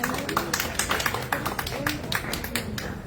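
Applause from a small audience at a science communication gathering: sparse, uneven hand claps over a murmur of background voices, moderately near and fairly soft.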